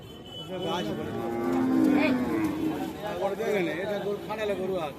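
Cattle mooing repeatedly and loudly nearby at a cattle market, long low bellows overlapping amid a busy crowd murmur.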